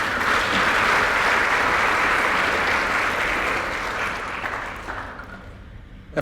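Dense, sustained audience applause for a speaker at a science talk on cultural and prescribed burning, loud and even for about four seconds before tapering off quickly into near silence.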